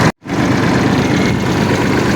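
A farm tractor's engine runs steadily at close range after a brief cut at the start, a continuous low idling rumble with no speech over it.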